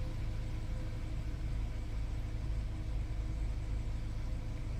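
A 2015 VW Jetta engine idling normally, a steady low rumble that holds constant and even throughout with no revving.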